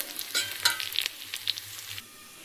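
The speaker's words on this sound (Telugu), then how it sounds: "ఈ విధంగా ఫ్రై అయితే సరిపోతుంది." Ingredients sizzle in hot oil in a pan, with a few sharp crackles and stirring scrapes over a soft steady fry, close and moderately quiet, then settling into a faint hiss.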